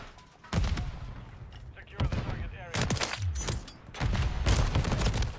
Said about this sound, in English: Of course the airstrike kills me.